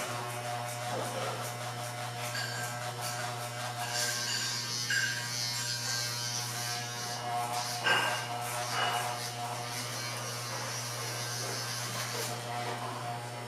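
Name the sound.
hair clipper with number 2 guard cutting hair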